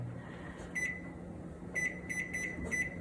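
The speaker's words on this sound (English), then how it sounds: "Another 5-minute timer" Kitchen timer beeping in a restaurant kitchen during short rib pot pie cooking, a short series of high electronic beeps in quick bursts over steady room hum.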